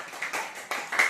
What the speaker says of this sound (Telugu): claps please